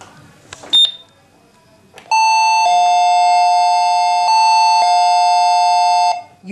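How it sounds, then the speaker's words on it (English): After a brief beep, a wireless call unit's electronic doorbell-style chime sounds loudly and close during pairing, a sustained multi-tone melody that shifts pitch a few times before cutting off. "the chiming noise will be heard"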